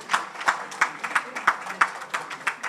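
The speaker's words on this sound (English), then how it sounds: "The members for the group, can we have a resounding clap again" Group members at a meeting clap together in a slow, even rhythm, sharp claps landing about three times a second, with faint voices underneath.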